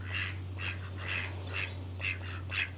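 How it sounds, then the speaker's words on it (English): Ducks quack outdoors in Yarmouth on the Isle of Wight, about six evenly spaced nasal calls over a low steady hum, moderately close and without talk. "Look, there's my little duck friends."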